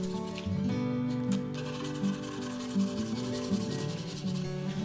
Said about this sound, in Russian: Наношу масло и располировываю самой мелкой наждачкой.